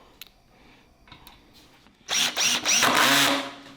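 A cordless power drill drives screws into a simple beginner-built wooden bench, running as a loud close whine in two or three bursts after a quiet stretch of light handling noises.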